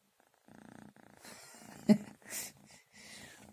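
A male kitten purrs softly up close in a low, rhythmic rumble, broken by a brief sharp snort and some rustling.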